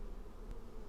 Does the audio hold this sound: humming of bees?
yes